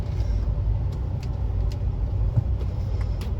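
A Land Rover Discovery 3 V8 with a manual gearbox, running on petrol, idles with a steady low rumble just after starting, close by and without talk.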